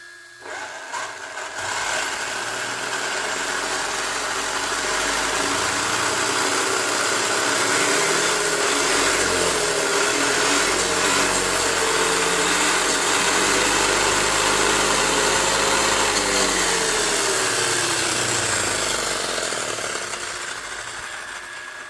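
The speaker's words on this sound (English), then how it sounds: "I'm gonna fire it up and see how she sounds." An ARRMA 6S RC car with a newly installed front bulkhead and upgraded servo runs its motor continuously, a loud, steady high-pitched whine and buzz that holds for about twenty seconds before easing slightly at the end.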